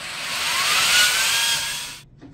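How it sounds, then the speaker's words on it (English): A power drill spins a bit through a kitchen cabinet drawer front while installing new drawer pulls. It gives a loud, steady high whine for about two seconds and then cuts off abruptly. "We're going to put our tip of our drill bit right on the dot."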